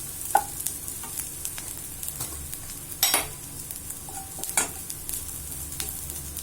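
Chilli powder, turmeric and spices sauté in a pan, a quiet steady sizzle broken by a few distinct stirring scrapes.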